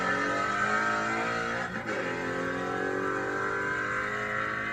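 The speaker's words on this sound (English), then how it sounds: "Car moved pretty good." A stock-looking car's engine revs hard up close as it accelerates, with a steady roar broken by a brief dip just before two seconds, like a gear change, before it pulls on loudly.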